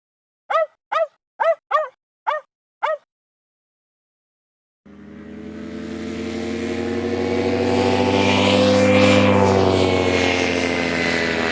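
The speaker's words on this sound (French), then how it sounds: "un moteur d'avion et un chien qui aboie" Five short sharp barks from a video game dog in quick succession, then silence, followed by a loud, steady propeller airplane engine drone from the game that swells and holds.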